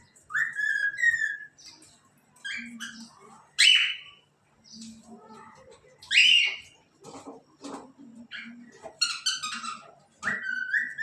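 Birds chirp and whistle near a rooftop at dawn, bright repeated calls arriving in short bursts of varying pitch, close and fairly loud, with a faint low hum beneath.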